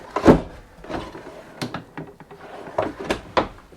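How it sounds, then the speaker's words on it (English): A storage drawer in a 2026 Rockwood Ultra Lite 2618RD travel trailer is slid back into place, giving several close wooden knocks, thuds and scrapes spaced irregularly over a few seconds. "I'll put these in and then put the drawer in"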